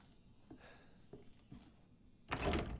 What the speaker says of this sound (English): And the door closed behind us.